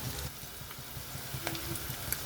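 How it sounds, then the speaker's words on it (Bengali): Chopped onion and shrimp fry in a pan with a steady, close crackling sizzle, broken now and then by faint scraping and clicking from stirring. "পেঁয়াজ আর চিংড়ি মাছ ভাজা পর্যন্ত অপেক্ষা করতে হবে"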